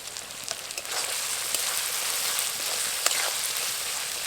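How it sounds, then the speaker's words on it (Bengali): Onions sprinkled with salt fry in a pan for a yogurt chicken dish, giving a dense, continuous close-up sizzle with scattered small pops and crackles. "পেঁয়াজটা বাদামি হওয়া পর্যন্ত ভেজে নেব।"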